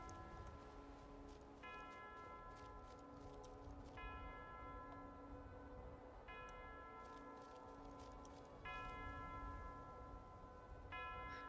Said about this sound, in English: That's the bell tower.